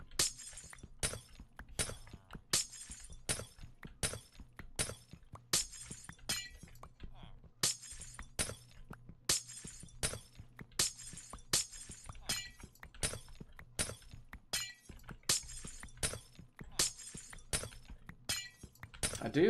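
Tinted glass blocks in Minecraft shattering one after another, a rapid steady series of crisp breaking clinks roughly every half second, over a faint low background hum.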